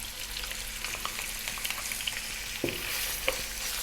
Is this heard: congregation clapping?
no